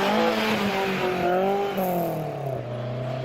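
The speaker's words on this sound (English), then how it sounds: "You can hear that higher car, a V-dub Golf, has been pushed to the maximum" A Volkswagen Golf rally car engine revs hard during a rally stage, its pitch climbing and then dropping as it strains, loud and close with no voices.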